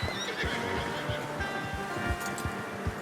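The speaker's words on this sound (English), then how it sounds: "How's that new horse?" A horse in the video game Red Dead Redemption 2 whinnies over a steady backdrop of hoof thuds and ambient game sound, with faint low voice-like murmurs.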